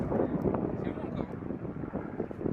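Wind gusts across the Golf National course during a match-play round, buffeting the microphone with a steady, heavy low rumble throughout.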